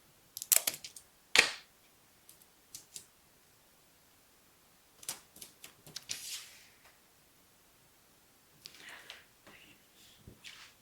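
Parchment paper being taped down at both ends while preparing donuts: sharp tape rips and crackly paper handling in scattered short bursts, fairly close, with quiet gaps between them and no talking.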